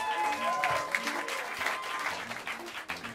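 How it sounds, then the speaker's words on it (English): Applause rises from the crowd at Smalls Jazz Club to welcome the members of a jazz quartet to the stage, a steady, fairly close patter of clapping with a few whoops and some talk mixed in. "if you could help me welcome them to the stage with some warm applause as I mention their names"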